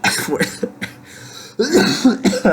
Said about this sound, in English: Beautiful, what a cough.